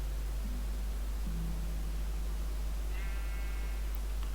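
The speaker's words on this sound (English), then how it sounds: "I would like to find some sheep nearby" A Minecraft sheep bleats a couple of times, faint and fairly distant, over a constant hiss of background noise with no talking.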